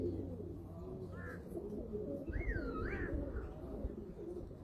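A rooftop pigeon, a Kamagar breed among fancy pigeons kept in Muscat, gives a few soft, low coos, with faint chirpy calls from other birds over a quiet, murmuring background.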